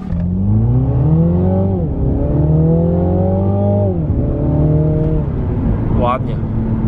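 A 2020 Mini Clubman JCW with a BMW engine accelerating from inside the cabin, revs climbing through two gear changes with dips between, a loud droning engine note, and a voice briefly audible near the end.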